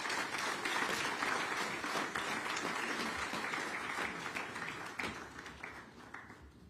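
Crowd applause for the minister at a local government partnership launch, a dense, sustained clapping from many hands that gradually thins and fades toward the end.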